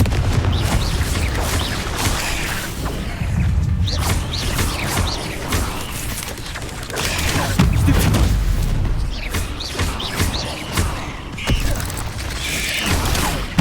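Blasting Confringo and Stupefy spells in Hogwarts Legacy, repeated booming hits and crackling impacts amid a dense, loud combat mix of creaking mechanisms and rumbling, with no talk.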